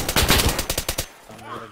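A rapid burst of about ten gunshots in the zombie survival game DayZ Rearmed, loud and close, then fading into quieter background sound.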